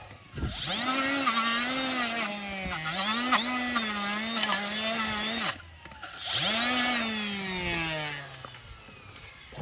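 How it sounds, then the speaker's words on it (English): A power tool fitted with an oversized wire wheel whines at a high pitch while scrubbing front brake parts on a 2007 Honda CR-V. It runs in two long bursts whose pitch dips under load, with a brief pause between them, loud and close. "I have way too big of a wire wheel on here"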